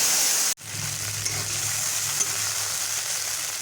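Whole cumin, dried red chillies, bay leaf and asafoetida hit hot oil for a dal tadka with bottle gourd and matar dal, bursting into a loud crackling sizzle after a brief sharp dip, then frying steadily and close by.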